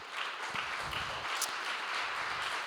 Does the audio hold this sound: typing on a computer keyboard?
no